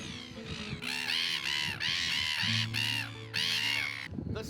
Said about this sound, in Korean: 약 1만 마리의 새들이 이곳을 터전 삼아 살아간다.